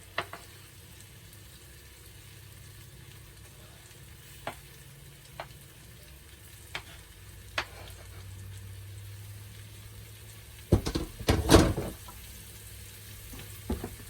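Mushrooms sautéing in butter in a pan over medium heat, giving a steady low sizzle throughout with occasional soft clicks and a louder burst of stirring and scraping near the end.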